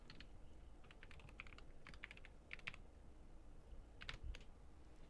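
Someone types on a computer keyboard to log into a Windows 10 Enterprise account. The keystrokes come as faint, sparse clicks in small clusters against a quiet background hum.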